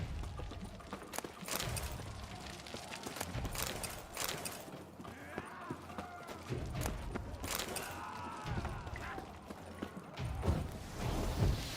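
Horse hooves clip-clop along a road in The Witcher 3: Wild Hunt, Blood and Wine, a steady moderate trot mixed with other game sounds and faint voices.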